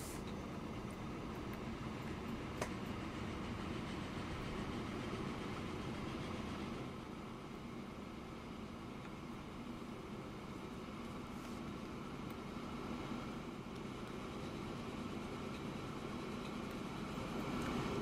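Long trains in Transport Fever 2 rumble steadily at low volume, a continuous mechanical drone of rail traffic with occasional faint clicks and no talking.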